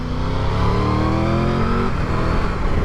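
Triumph Tiger 1200 GT Pro motorcycle accelerating hard in sport mode on new tyres: a loud, steady engine note climbing in pitch for about two seconds, then easing off, with no talk over it.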